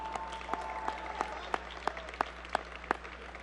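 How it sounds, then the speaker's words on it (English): Sparse applause from the audience at the 2005 World Cyber Games Grand Final opening, a few scattered distinct claps over a low hall hum, fairly quiet and brief. "give them a round of applause"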